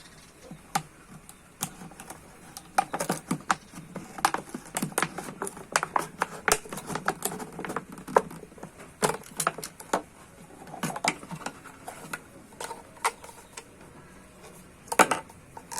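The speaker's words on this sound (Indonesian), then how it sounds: "kita sekarang ganti dengan gunting." Scissors snip through a plastic bottle being cut into a trumpet shape, a steady run of close, crisp cuts and crackles over about sixteen seconds with no talking.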